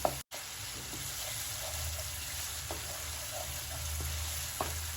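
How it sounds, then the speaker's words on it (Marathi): Raw tomato puree sautéing in oil for matar paneer, a soft, steady sizzle with a few faint spoon taps, quiet and continuous with a low background hum. "नंतर टोमॅटोची प्युरी घालायची मी सगळं कच्चं घेतलंय त्यामुळे वेळ लागतो परतायला छान परतून घ्यायचं तेल सुटेपर्यंत"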